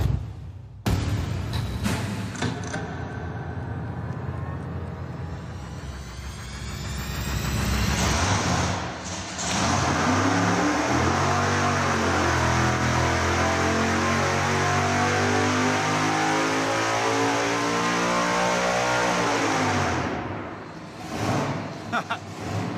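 A supercharged big-block Chevy on a dyno cranks, fires and revs, a loud sustained roar with rising and falling pitch sweeps that settles back before shutting off, with voices at the start.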